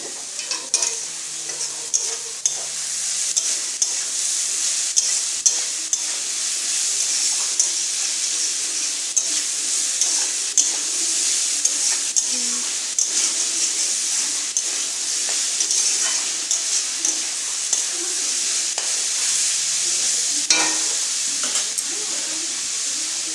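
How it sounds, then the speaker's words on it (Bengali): Pasta being stirred and mixed with salt in a pan for a vegetarian dish, continuous scraping and sizzling with sharp utensil clicks and knocks against the pan, close and steady for the whole stretch, with no talking. "এখানে নিয়েছি স্বাদ মতো লবণ দিয়ে আবারও একসঙ্গে মিশিয়ে নেবে"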